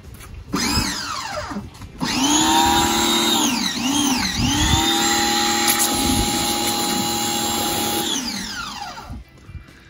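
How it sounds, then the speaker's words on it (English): A pressure washer's motor spins up and runs with a steady high whine while spraying soap onto a very dirty SUV during detailing, briefly dipping in pitch before running on and stopping near the end. "Alright, so we're gonna get the pressure washer."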